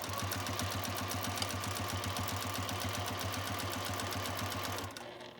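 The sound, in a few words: sewing machine stitching quilt binding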